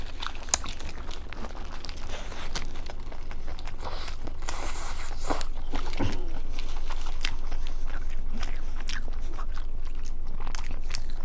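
Close, repeated biting and crunchy chewing from people eating hamburgers, with soft crinkling of wrappers and occasional movement noises throughout.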